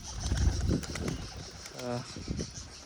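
Pigeons in a home courtyard flutter and coo nearby as they fly up onto an umbrella-shaped perch, a brief burst of flapping wings followed by a low throaty coo, with a voice speaking in the background.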